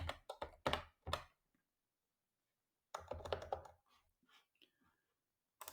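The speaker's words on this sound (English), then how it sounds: "Or I might have to type in Detroit." A computer keyboard clatters as someone types a team name into a betting site, a quick flurry of close clicks, a pause of silence, then another burst of keystrokes and a few final taps.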